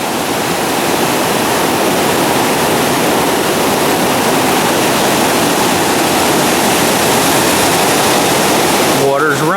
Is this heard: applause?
no